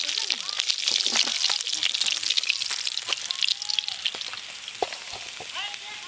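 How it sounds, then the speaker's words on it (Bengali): Pieces of rohu fish fry in hot oil, giving a continuous close, busy crackle and sputter with scattered sharp pops, while faint voices are heard in the background. "মাছগুলো খুব ভালো করে ভাজা হয়ে গেছে"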